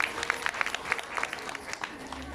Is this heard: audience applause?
yes